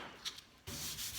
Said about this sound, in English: you want to sand in one direction and then sand in another completely different direction.